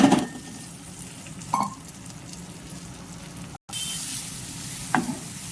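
Cluster beans (gokarakaya) frying in a pan for a simple chicken dish, a soft continuous sizzle with a few brief clinks from stirring against the pan.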